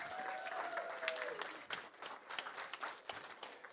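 Steady applause from a conference crowd, loud and continuous with dense clapping, plus a brief whistle near the start.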